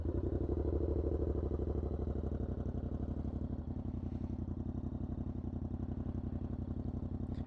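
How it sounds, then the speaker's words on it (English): A Yamaha R7 motorcycle with an aftermarket exhaust idles steadily up close, a low, even, rhythmic burble with light mechanical clatter and no speech. "I'll turn it on for you guys so you could hear how it sounds."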